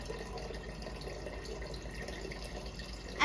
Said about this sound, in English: As the water is flowing